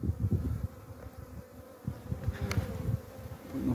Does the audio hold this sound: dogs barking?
no